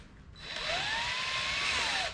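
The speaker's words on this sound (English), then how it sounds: "drill the pilot hole." A power drill bores a pilot hole for a half-inch bolt through angle iron brackets on a water trailer, its high motor whine rising in pitch and holding steady for about two seconds, loud and close.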